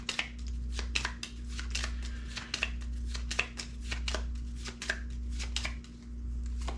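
A deck of objective cards being shuffled at a tabletop during a Stuka ace campaign game, steady rhythmic riffling and snapping bursts repeating close up over a constant low electrical hum.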